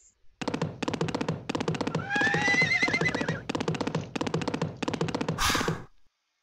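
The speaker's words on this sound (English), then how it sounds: "Horses." A horse neighs in the Starfall ABC web game, repeated whinnying bursts with clip-clop rhythm, loud and close, ending in a brief noisy flourish.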